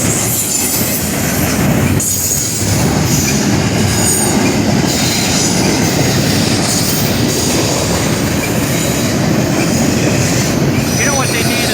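A Norfolk Southern train rolls loudly past a road crossing at Ohio 225, its wheels squealing and clacking over the rails in a continuous close roar that lasts the whole time.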